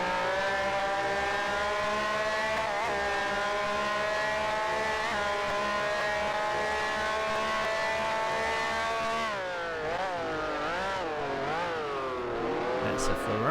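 A Ferrari race car engine in a sim racing game drones at high, steady revs with layered harmonic whine, then rises and falls through gear changes near the end.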